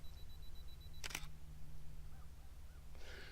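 Single-lens reflex camera shutter firing once after a 2-second self-timer, a short crisp click burst near 1.1 s over steady low hum, with a faint second mechanical rustle toward the end.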